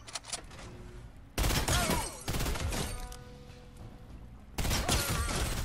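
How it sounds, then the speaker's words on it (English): Gunfire from a player shooting in the Fortnite video game comes as several loud, heavy blasts and sustained bursts with crashing impacts, close up and with no talk. "I hear someone shooting. It's me. I shot."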